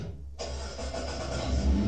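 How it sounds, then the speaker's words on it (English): A stock six-cylinder turbo car engine catches after a brief quiet start, then idles steadily with a loud, continuous low rumble and broadband mechanical noise throughout. "So this is the standard stock 6-cylinder turbo engine"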